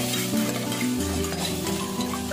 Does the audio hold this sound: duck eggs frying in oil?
yes